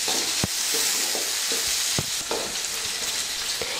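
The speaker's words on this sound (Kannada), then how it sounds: "ಹಸಿಮೆಣ್ಸಿನ್ಕಾಯಿ ಹಾಕೋತೀನಿ ರೀ. ಈ ಚಲೋ ಹೊತ್ತಿನಾಗೆ ಹುರ್ಕೋಬೇಕು ರೀ." Peanuts, onion and green chillies frying in oil in a large pan for churumuri susla, with a constant hissing sizzle and a few soft stirring knocks from a spoon against the pan.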